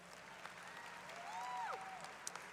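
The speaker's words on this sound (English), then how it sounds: "Please give her a round of applause." A university commencement crowd applauds softly and at a distance, a steady wash of clapping with a brief whistle-like tone rising through the middle.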